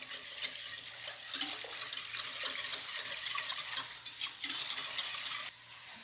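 Bread dough mixture being stirred as milk is worked in, a steady wet scraping and swishing with occasional clinks of utensil against the bowl, close and continuous for several seconds.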